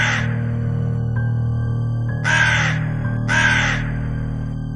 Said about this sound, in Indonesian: Sayapnya mengepak keras dan terbang sambil berteriak.